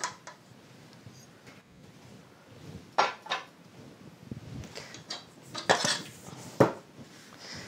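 Metal dough hook lifted out of a stand mixer bowl during bread making, giving a few separate clinks and knocks around three, six and six and a half seconds over a quiet kitchen background, no speech.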